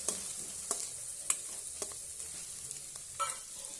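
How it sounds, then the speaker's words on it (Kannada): Paneer korma ingredients fry in a pan with a pinch of salt, turmeric and chilli, a steady sizzle broken by several sharp stirring scrapes and clinks, close and alone with no talking. "ಈಗ ಇದನ್ನು ಫ್ರೈ ಮಾಡೋಣ."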